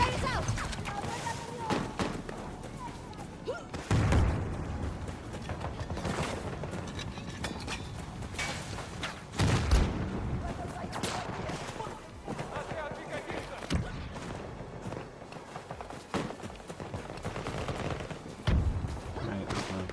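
Gunfire bursts and grenade explosions from a Battlefield video game, with several heavy booms near 4 and 9.5 seconds amid continuous shooting, a voice talking over the action.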